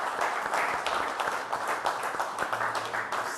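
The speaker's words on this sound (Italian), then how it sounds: "Facciamo un applauso a Snidero" A studio audience on a television program applauds a guest named Snidero, brisk dense clapping from many hands, continuous and even at moderate loudness.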